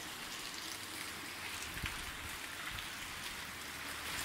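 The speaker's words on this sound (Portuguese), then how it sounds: "Está escuro, está chovendo e está vindo uma névoa também junto com a chuva" Steady rain falls at dusk in Ubajara in the Serra da Ibiapaba, Ceará, with mist coming in, a dense continuous hiss with occasional nearby drips and no talking.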